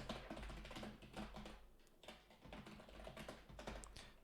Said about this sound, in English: I'm horrible at typing